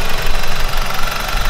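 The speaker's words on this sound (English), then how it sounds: "Okay, and the engine is running" BMW N42/N46 four-cylinder engine idling with occasional random misfires, a close, loud, steady rumble with uneven knocking pulses throughout.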